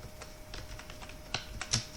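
Typing on a computer keyboard while entering text in Microsoft Word: close, uneven clicks of individual keys, with a couple of sharper, louder strikes near the end and no talking.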